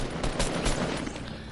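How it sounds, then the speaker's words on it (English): Rapid gunfire in the Fortnite video game, a dense burst of loud repeated shots crackling in quick succession over about a second and a half. "I hear gunshots."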